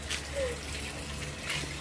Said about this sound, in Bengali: তো এইবার হচ্ছে জল দেওয়ার পালা নাকি?